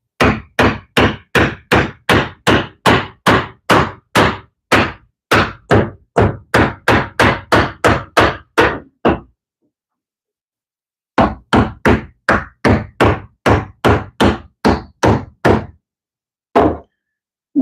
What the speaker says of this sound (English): So back to the hammer.